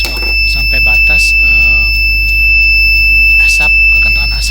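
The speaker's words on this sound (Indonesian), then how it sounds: "Di sini berkedip-kedip dan terus membunyikan alarm dari buzzer." Buzzer alarm on a smart fire detection prototype sounding a loud, steady high-pitched tone throughout, with brief clicks and a voice talking under it.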